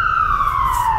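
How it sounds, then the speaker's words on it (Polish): An ambulance siren sounds as a single loud electronic wail, its pitch sliding steadily downward over a brief moment above a low road rumble. "karetka pogotowia"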